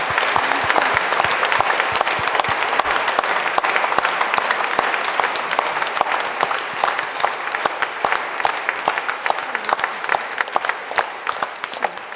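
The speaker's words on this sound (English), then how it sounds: "Give a mighty, mighty clap to the Lord." A church congregation at a Lenten retreat claps loudly and continuously, a dense crowd applause that carries on for several seconds with no speech over it.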